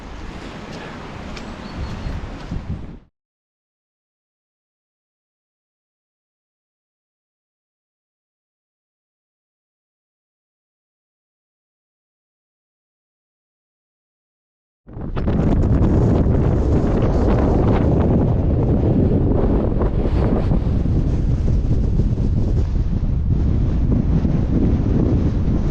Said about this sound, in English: That wind is so strong it almost blew me over.